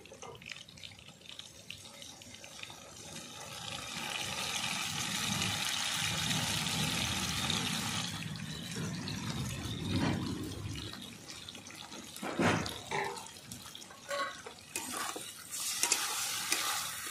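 Lightly browned potatoes fry in a pan for a rohu fish curry as ground spice paste is added and stirred in. A loud, watery sizzle swells and fades, followed by scattered stirring clatter and bursts of hiss, with no voices.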